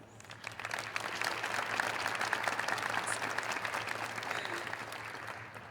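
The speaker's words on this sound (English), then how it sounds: "Anya, will you please stand for a quick round of applause?" Round of applause for Anya at an NSCS honor society induction ceremony, sustained clapping from a seated audience, moderately quiet and even throughout with no voices over it.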